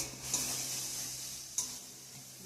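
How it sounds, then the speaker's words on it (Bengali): Masala of dried red chilli, bay leaf, ginger, whole cumin and ground spices mixed in water, frying in a pan, a steady bright sizzle with a couple of short stirring scrapes. "তো মশলাটা এখানে ভালো করে কষিয়ে নিছি।"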